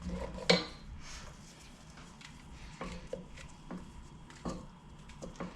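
Mushrooms stirred into a pot of curry, with a sharp clink of utensil against the pot near the start, then a few lighter scrapes and taps spread out over a quiet kitchen background.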